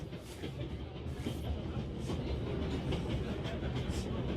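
A train in the video game 11-11 Memories Retold rolls along with a loud, steady rumble and faint rhythmic rattling of its wagons, close and continuous.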